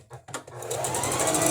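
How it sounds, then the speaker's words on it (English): Sewing machine running steadily as it stitches and backstitches fabric at the start of a seam, a short start-stop burst followed by continuous close, loud whirring. "Start a couple of stitches, back stitch,"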